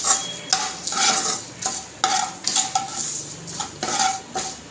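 A spoon stirs spice masala with coriander powder in a pan, making repeated metallic scrapes and clinks in an irregular rhythm over a faint sizzle, close and clear.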